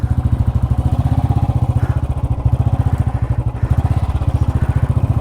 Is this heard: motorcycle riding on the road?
yes